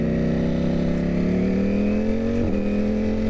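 A superbike engine revs up from idle, its throaty drone climbing steadily in pitch before a quick blip, loud and close with no speech.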